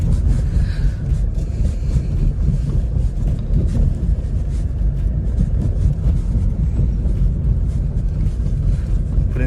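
Cabin noise inside an Opel Astra K on a test drive, with a constant loud low rumble of the engine and road plus wind noise that stays steady for the whole stretch.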